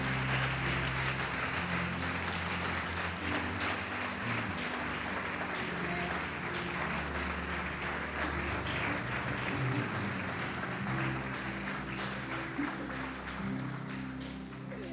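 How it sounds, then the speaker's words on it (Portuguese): A church congregation applauds during a Portuguese-language sermon, dense sustained clapping that fills the space without a break, with a faint low hum underneath. "Pode aplaudir o Senhor Jesus e glorificar."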